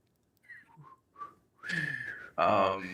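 Someone whistles a short tune, a few tentative notes first, then longer sustained pitches, close to the mic and growing louder.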